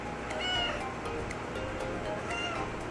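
A cat with a hoarse, husky voice meows in a long drawn-out call, close and fairly quiet, with a faint steady background hum and no talking.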